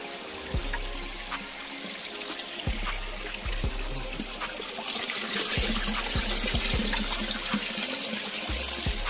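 Water trickles and splashes steadily nearby in Balat, with scattered drips and occasional low knocks, no talking.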